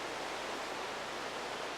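A river stream near Mount Adams flows as a soft, steady, hissing wash of water, faint and continuous, heard alone with no voices.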